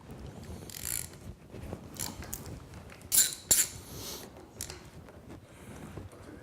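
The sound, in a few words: removing crankshaft pulley from engine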